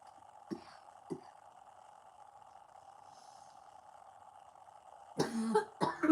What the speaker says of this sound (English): It's not it's a dry cough.